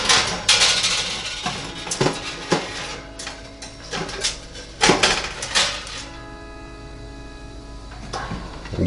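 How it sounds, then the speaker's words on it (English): A metal air fryer basket and baking pan are slid onto the racks of a Breville Smart Oven Air Fryer, making a run of close, loud metallic clanks, scrapes and rattles that settle into quiet near the end. "going to put the air fryer basket on the third rack up"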